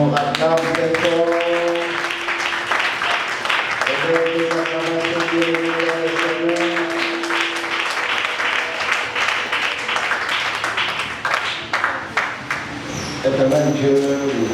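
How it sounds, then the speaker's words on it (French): Congregation applauding during a church worship service, sustained clapping filling the room with music and tones underneath and voices mixed in. "Acclame encore, acclame très fort"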